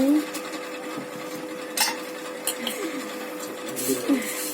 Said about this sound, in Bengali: একটু মশলা মুড়ি মাখাচ্ছি